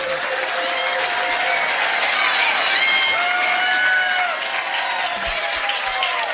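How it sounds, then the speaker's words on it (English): A room of pub quiz players at a trivia night gives a round of applause, dense clapping with some cheering and shouting, steady and loud before tapering slightly toward the end. "Give them a round of applause."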